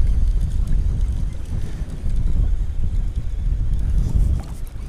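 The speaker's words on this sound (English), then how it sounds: "I kind of underestimated how windy it was going to be today" Gusty wind blowing across a lake during spring bass fishing from a boat, a steady low rumbling buffet on the microphone that swells and eases for several seconds, with no talking.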